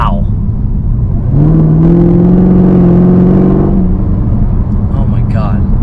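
Supercharged 650 hp Chevy Camaro ZL1 V8 accelerating, a deep rising engine growl that swells in the middle and then eases off under a continuous road rumble, with a voice talking over it.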